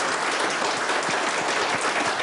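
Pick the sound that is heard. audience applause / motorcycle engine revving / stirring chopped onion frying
audience applause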